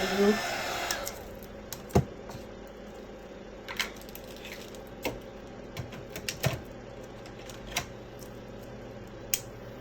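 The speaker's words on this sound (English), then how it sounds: "I'm just heating up the resin." A heat gun warms resin for a 3D resin flower, giving off a steady, close blowing hiss, with scattered light clicks and taps over it.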